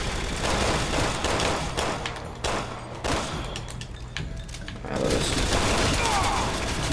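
Gunfire in the video game Resident Evil 6 rattles out in dense rapid bursts, loud and continuous, with a short lull before it resumes heavily.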